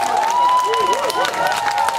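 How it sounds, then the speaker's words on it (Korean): An outdoor crowd at a special stage on Hongdo port during an island daylily festival applauds a saxophonist, with scattered claps rippling under a voice speaking and a steady tone. "박수를 부탁드리겠습니다"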